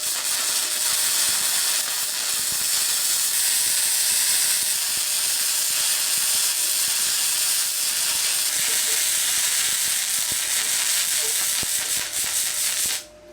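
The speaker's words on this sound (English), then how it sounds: "According to the instructions, that should now weld 7mm plate." A gasless MIG welder runs a long, steady crackling hiss as it welds 7mm steel plate, loud and close, lasting almost the whole stretch before cutting off at the end.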